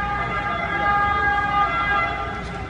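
A loud fire engine siren wailing steadily in a Milan street during a building fire, sustained tones rising and falling close by over a rumble of road traffic.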